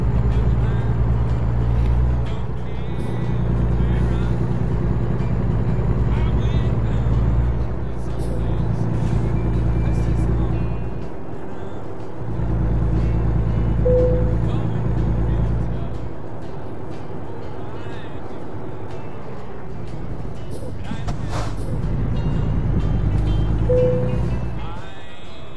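Continuous low engine drone of a truck driving in American Truck Simulator, loud and steady with shifts in pitch as it accelerates and slows, with a couple of brief higher tones over the rumble and speech at times.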